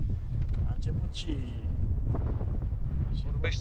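Low, blustery spring wind buffeting the microphone throughout at Lake Nucetu, with scattered rustling and faint background noises over the steady rumble.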